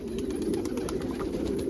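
Fancy pigeons, stipper and almond birds, coo in a low, steady, close purr that stays unbroken throughout, with faint higher chirps above it and no talking.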